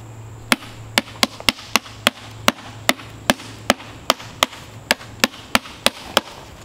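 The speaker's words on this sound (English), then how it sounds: "I'm gonna use a rubber mallet to unform it, because it's not wanting to come out on its own" A rubber mallet knocks a concrete and perlite rocket stove that is stuck in its mold, giving sharp, evenly spaced thuds, about fifteen in under seven seconds, close and loud over a low steady hum.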